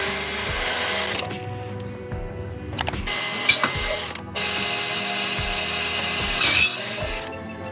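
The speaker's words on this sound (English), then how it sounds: "I'm just going to use the drill to mark a couple of locations and move the bracket to drill my holes." A power drill whirs in several short bursts while drilling holes to mount a Garmin EchoMap UHD bracket, stopping and restarting with clicks and mechanical rattling between runs, close and loud.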